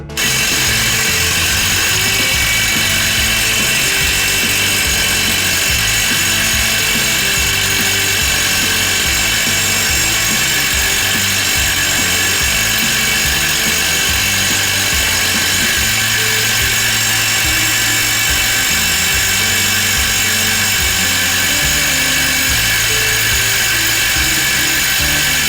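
A Snap-on 200 impact driver runs hard for the full stretch, loud and close, its motor whine and rapid hammering holding steady with slight pitch shifts and no voices over it.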